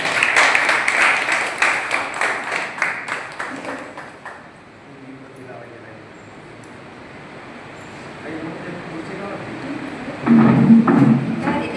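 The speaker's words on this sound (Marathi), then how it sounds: "जरा टाळ्यावर दे, टाळ्या वाजवा." Crowd applause at a Bharatiya Bauddha Mahasabha taluka branch gathering in Vaibhavwadi marking the end of Varshavas: dense, fairly loud clapping for about four seconds, then a quieter stretch of murmur and a brief swell of clapping near the end.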